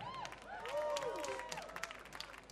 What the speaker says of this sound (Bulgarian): Аплодисменти за Балет Нова